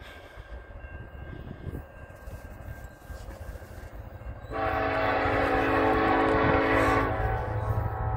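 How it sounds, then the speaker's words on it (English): A Norfolk Southern 62V freight train passes through Topton, Pennsylvania: a low rumble of wheels and engines, then a loud sustained horn blast blares for a few seconds before fading back into the rolling rumble. "Here comes the train."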